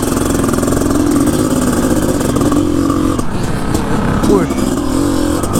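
A 500CR motorcycle engine idling and revving steadily close by, a loud continuous buzzing drone with slight pitch shifts, while a person briefly speaks over it.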